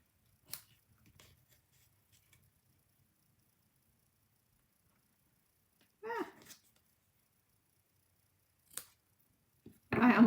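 Scissors trimming ribbon for a stamped holiday card, a few short, crisp snips separated by long quiet gaps, close and fairly faint, with no talking.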